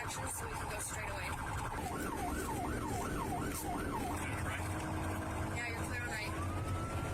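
Emergency vehicle sirens cut through the traffic, with an ambulance's wailing yelp cycling loudly up and down alongside other siren tones, while someone speaks briefly over the noise.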